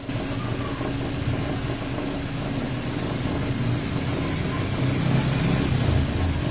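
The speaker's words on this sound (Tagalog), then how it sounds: "habang naka-start itong makina, palyado siya." A Suzuki Ertiga engine misfiring at idle, a rough, uneven rumble, a steady close mechanical noise that grows slightly louder toward the end.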